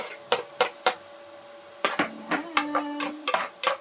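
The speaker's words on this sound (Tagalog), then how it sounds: "Igisa na natin yung sibuyas at bawang" Onion and garlic being sautéed in a pan, heard as a series of sharp clinks and knocks of utensil against cookware, spaced irregularly with a few faint tonal rings, close and fairly loud with no talking.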